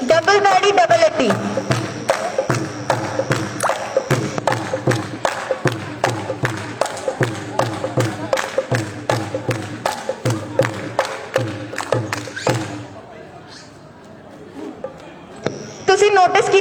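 At a Punjabi folk dance camp, dancers repeat double hand claps and double heel stamps in a brisk, even rhythm, loud and near, before the beat stops briefly and a few stray claps resume at the end.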